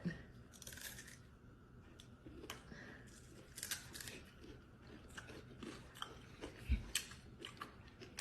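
Quiet, close crunching bites and chewing of a crunchy dessert made to look like fried chicken, with crisp crackles, continuing steadily over several seconds with soft background noise.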